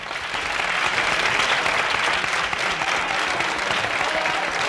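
Studio audience on a Spanish TV game show breaks into loud, sustained applause, dense clapping that stays even and unbroken from start to finish with no speech over it.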